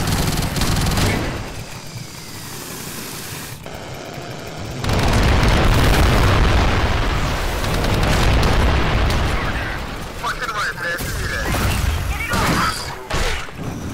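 Dense shooting and explosions in a video game as a mortar bug is targeted, a loud continuous barrage of booms and bursts that swells midway and keeps rumbling throughout.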